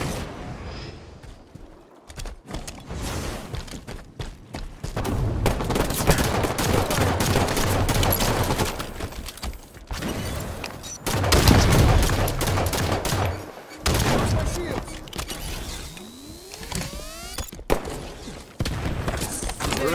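Scattershot weapon fire from the Halo 5: Guardians online Team Duos mode: dense, loud bursts of gunfire with sharp impacts that repeat and overlap for most of the stretch, easing briefly before more shots.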